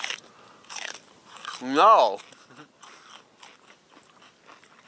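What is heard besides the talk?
biting and chewing raw celery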